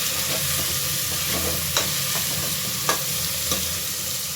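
Pulses (kaalu) being stirred and roasted in a pan: soft continuous sizzling with scattered scraping and clicking strokes of the spoon, fairly quiet and close, no voices.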